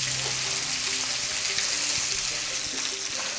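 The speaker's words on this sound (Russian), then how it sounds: "Пусть еще пожарится наше мяско." Pieces of meat fry in a skillet with a dense, steady sizzle and faint crackles throughout, close and moderately loud, with no talking.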